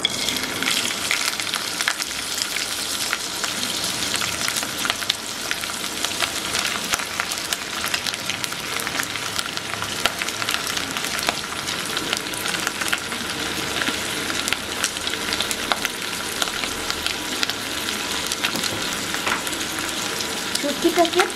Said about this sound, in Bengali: শুটকিটাকে তেলের মধ্যে দিয়ে দিয়েছি। এবার এটাকে আমি ভেজে নিব সুন্দরভাবে।